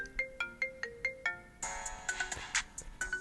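A phone ringtone plays loud and close, a rhythmic electronic chiming melody of repeated bright tones that shifts into a denser, busier pattern partway through.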